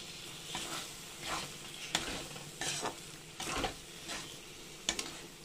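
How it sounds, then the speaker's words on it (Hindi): Coarse pea paste and whole peas fry in a pan, a quiet bubbling sizzle with rhythmic soft spoon scrapes about every half second, close but faint. "जो हमने मटर का दरदरा पेस्ट बनाया था, और इसे डालकर हम भूनेंगे"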